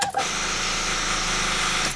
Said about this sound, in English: That is the sound of a low battery.